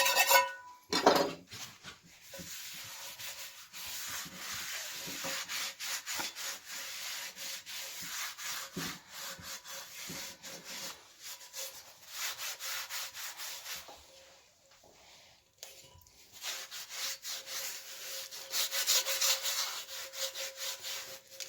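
Someone wipes and scrubs a cast iron pan coated in old frying oil, producing repeated rough rubbing strokes of varying strength, with brief pauses between passes and no talk.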